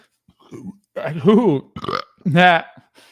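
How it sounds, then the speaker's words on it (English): Several loud, close burps come in quick succession, each a short croaky, voiced belch with gaps between. "see, I got the bubbly going and get the burps going now"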